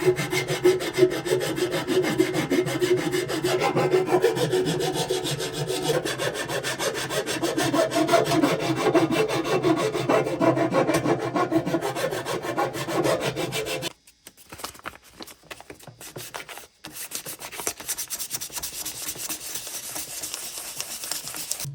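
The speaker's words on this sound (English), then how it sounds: "I ended up using a file here to get the high spots down a little bit" A hand file scrapes back and forth over cured JB Weld epoxy patched onto a Suzuki TS185 motorcycle fuel tank, steady rasping strokes close by, then pausing and resuming more sparsely near the end.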